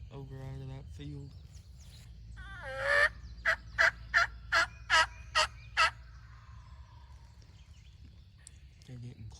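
A wild turkey tom during a Tennessee turkey hunt gobbles in a rapid burst of rattling notes at middle distance, after people talk quietly nearby.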